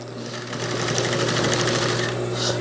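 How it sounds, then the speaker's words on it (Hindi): A sewing machine stitching a thobe sleeve up to the buckram, running steadily with a fast, even mechanical whir and rapid needle clatter from start to finish, close and loud. "ये बुकरम तक आपने सिलाई लगानी है।"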